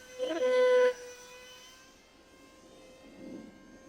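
An E-flite Habu SS 50mm electric ducted fan RC jet sits on the runway, giving a short loud whine of rising fan tones that fades to a steady thin hum with faint background noise.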